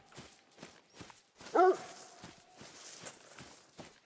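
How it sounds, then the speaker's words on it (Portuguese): A hunting dog in a hunting video game gives a single close bark amid a steady rhythm of footsteps. "Para de latir na minha orelha."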